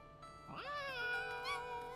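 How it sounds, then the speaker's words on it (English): A kitten in an anime episode gives one soft, rising and then falling meow. It sounds fairly close but quiet and stands alone over a faint background. "It's a kitten."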